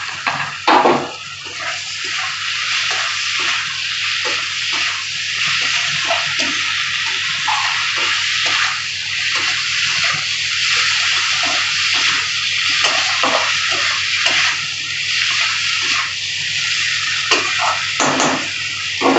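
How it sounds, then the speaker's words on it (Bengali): Lightly fried prawns go into a hot pan for a prawn and poppy seed dish and cook with a loud, continuous hissing sizzle that holds steady and close throughout. "চিংড়ি মাছটা দিয়ে দিলাম।"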